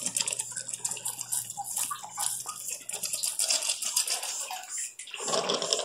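Water trickles and splashes steadily into a hydroponic reservoir, a continuous close-up pouring with no speech.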